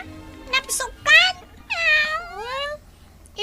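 A house cat meows nearby in three or four drawn-out, rising and falling cries, with short pauses between them over a quiet background.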